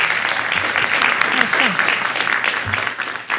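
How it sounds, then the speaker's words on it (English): Loud, sustained applause rises from a forum audience after a panel discussion. Dense clapping fills the room, while a few voices call out beneath it before it thins slightly near the end. "Let's give them a round of applause."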